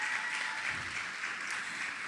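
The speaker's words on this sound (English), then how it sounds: "I think she deserves a round of applause" Applause from a conference audience, a steady wash of many hands clapping at a moderate level, with no speech over it.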